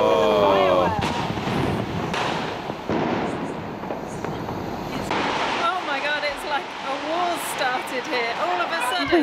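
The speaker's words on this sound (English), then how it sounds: "It's just fireworks, literally all over the city" Dense, continuous Diwali firework explosions crackle and boom from every direction across Pune, near and far, with occasional excited voices over the rolling din.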